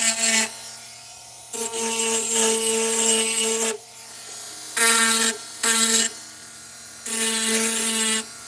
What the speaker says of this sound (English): to the sanding block.